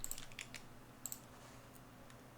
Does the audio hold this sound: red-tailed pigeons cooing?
no